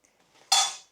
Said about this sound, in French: j'ouvre le tiroir de la cuisine